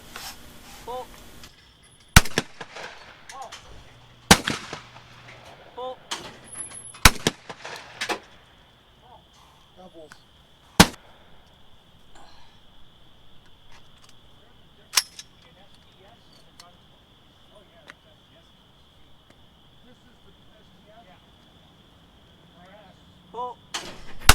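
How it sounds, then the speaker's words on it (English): Mossberg SA-20 20 gauge shotgun shots ring out as sharp, isolated cracks, spaced irregularly a few seconds apart against a quiet outdoor background with faint rustling. "My youngest son has cut his teeth shotgunning with this Mossberg SA-20."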